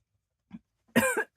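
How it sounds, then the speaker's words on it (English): A short burst of coughing up close, a small throaty hack followed by two harsher coughs in quick succession. "I had a coughing fit that turned into a sneezing fit"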